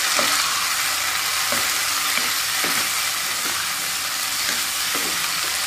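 Potato slices frying in a pan for a single serving give a steady, bright sizzle throughout, with soft periodic scrapes and knocks of a spatula stirring them every second or so, close and alone without voices.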